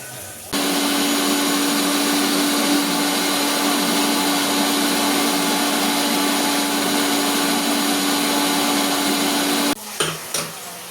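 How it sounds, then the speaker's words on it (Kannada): An electric mixer grinds ginger garlic paste for chicken biryani, running loud and steady with a constant whine for about nine seconds before cutting off, followed by a few clunks. "ಅಲ್ಲಿವರೆಗೂ ಶುಂಠಿ ಬೆಳ್ಳುಳ್ಳಿ ಪೇಸ್ಟ್ ಏನಿದೆ ಅದನ್ನು ನಾನು ಪೇಸ್ಟ್ ಮಾಡ್ಕೊತೀನಿ"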